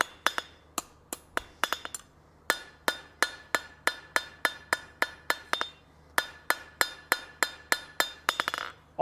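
A hammer rings sharply on forged spline steel bar stock over an anvil, planishing the faces in a steady series of bright metallic strikes with brief pauses, close and loud.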